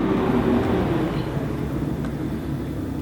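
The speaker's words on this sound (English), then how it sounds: "darn school bus made so much noise" A school bus passes by outside, a loud, broad engine rumble and road roar that fills the scene and slowly eases, with no voices.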